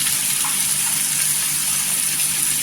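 Steady, hissing sizzle of dry spices sautéing in hot oil in a pan for a papaya vegetable dish, continuous and fairly loud with no pauses.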